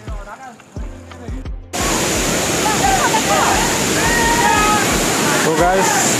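Barabakhra waterfall inside Debrigarh Wildlife Sanctuary in Bargarh, Odisha, pours in a steady, loud roar of rushing water that fills the scene after a brief quieter opening with low thumps, with faint voices of a crowd nearby.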